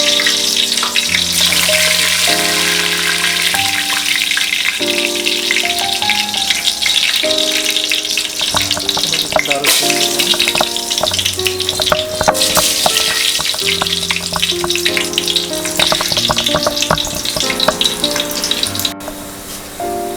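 Bay leaves and cardamom sizzle and fry steadily in hot oil in a pot for a Bengali meat pulao, a loud continuous crackle with stirring scrapes throughout and no talking.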